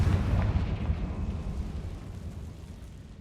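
A Confringo fire-blast spell in Hogwarts Legacy erupts as a single deep, rumbling explosion that starts loud and slowly fades into a low, dwindling roar.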